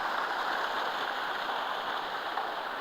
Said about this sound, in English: The waterfall too.